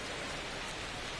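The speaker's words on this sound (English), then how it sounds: "the field's not going to be able to hold up if the rain gets any worse than this" Steady rain falls on a baseball field in the video game MLB The Show 25, a fairly faint, even hiss that holds unbroken from start to finish with no voices over it.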